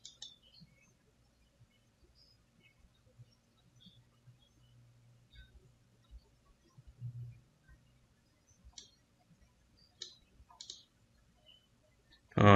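Sparse, faint computer mouse clicks spaced out over several seconds during a Docker Desktop installation on Windows, with a low hum in the background and a louder click at the very end.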